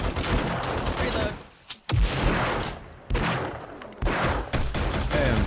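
Shotgun blasts in a zombie shooter video game, heavy repeated booms with short gaps, each followed by noisy tails, loud and close with a brief quiet dip before the next volley.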